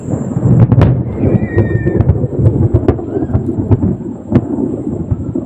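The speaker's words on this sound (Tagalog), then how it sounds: "kumukulog na mga toy" Low thunder rumbling during rain beside Laguna lake, a loud continuous roll with sharp cracks and crackling peaks throughout, heard outdoors with no talk.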